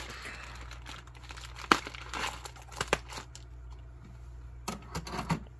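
Plastic packaging from a ready-to-eat spaghetti and meatballs meal is handled and crinkled up close, with irregular crackling bursts and a few sharper snaps over a low steady hum.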